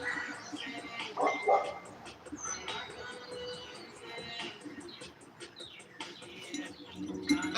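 A neighbor's dog barks and yips outdoors in a residential neighborhood, irregular barks at a moderate distance with birds chirping and some voices nearby.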